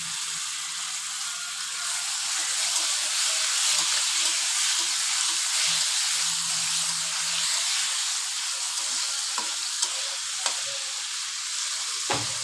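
Tomatoes frying in a pan for tengra fish bhuna, a steady close sizzle with light stirring clicks and a few scrapes near the end, no talking.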